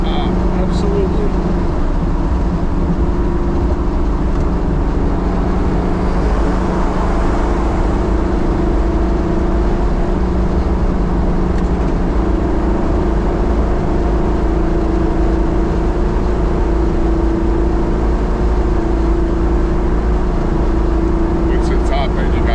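A Plymouth 440 Cuda cruising at high speed, heard from inside as a loud, steady engine drone and road roar that stays constant throughout, with people talking over it.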